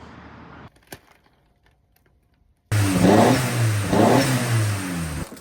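A Volkswagen Vento engine, back running after electrical repairs, starts up and revs loudly after a quiet stretch of faint clicks, its roar rising and falling in two strong pulls close by.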